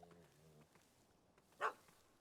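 A puppy in The Witcher 3 gives one short, sharp bark near the end, standing out from quiet game ambience after a faint earlier tone.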